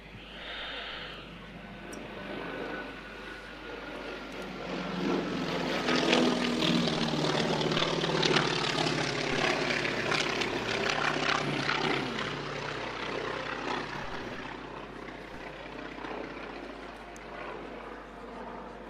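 An aircraft flies over during an Anzac Day strafing run at Bargara, its engine drone rising from a distant hum to a loud, broad roar overhead, then slowly fading, with no speech.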